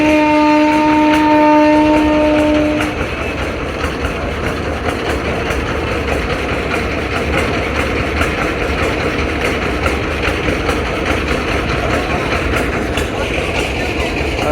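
The passenger launch Kuakata 2 reversing on the river at Barishal: a loud, steady, low engine drone runs throughout, with a brief tonal sound at the start.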